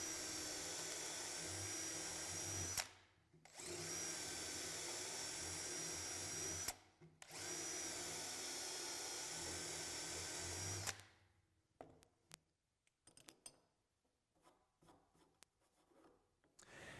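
Power drill boring a mortise through a BeadLock jig into wood, two long loud runs of steady whine broken by short pauses, then a third run that stops, followed by scattered clicks and handling knocks.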